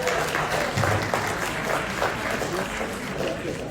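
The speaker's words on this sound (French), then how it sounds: "Merci aux Camerounais d'applaudir." Audience applause from a Cameroonian delegation at a Côte d'Ivoire skills-development event, steady and dense throughout with voices mixed into the clapping.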